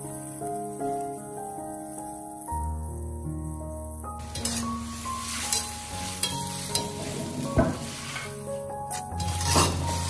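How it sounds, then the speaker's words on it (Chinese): Bean sprouts tipped into a pot of water and brought to a boil over high heat, giving steady close bubbling and stirring noises with a few clinks against the pot, running continuously with no talk. "再把洗干净的豆芽倒进锅中，开大火把里面的食材都煮开"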